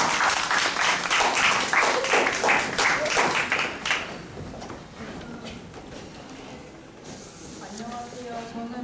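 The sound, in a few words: welcoming applause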